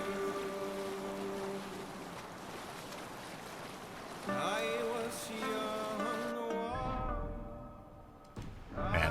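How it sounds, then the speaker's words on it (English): Sailing a boat at sea in Assassin's Creed Valhalla, with a steady wash of water and wind under sustained tonal game sounds that shift midway, moderately quiet, ending in a low rumble and a brief thump. "I'm just kind of sailing around in the dark."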